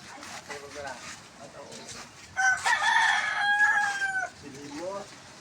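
A red junglefowl's crow rings out loud and near, a long drawn call in the middle, with people talking before and after it.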